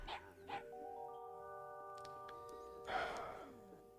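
A dog barks inside a video game, giving a few short synthetic yips near the start, followed by a sustained chord of game tones and a brighter burst of effects; no one talks over it.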